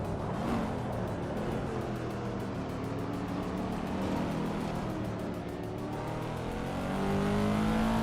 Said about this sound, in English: Daisy Chains has shot off the line to take an early lead.